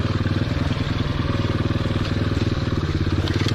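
A 2015 Motoped Pro 90cc motorbike engine runs with a loud, steady, rapid thumping idle pulse, close by and continuous, with no talking over it.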